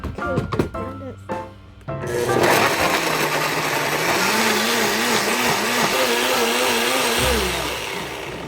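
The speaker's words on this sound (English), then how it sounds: "Let's go to blender." A blender whirs continuously at close range, blending a homemade natural hair dye mixture, its motor pitch wavering steadily for several seconds after brief talk and handling at the start.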